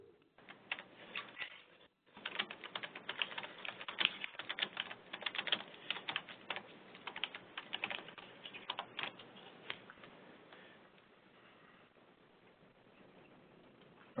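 Keys clatter on a computer keyboard in quick irregular bursts that thin out toward the end, faint and thin as if picked up over a remote call, with no voices.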